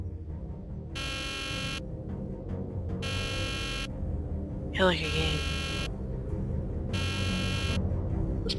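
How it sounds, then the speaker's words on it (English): Repeating alarm buzzer in a Nancy Drew video game, The Deadly Device, blaring in regular bursts about a second long over a steady low hum, with a voice speaking briefly midway. "Even though that there's alarms going off, we're gonna play this."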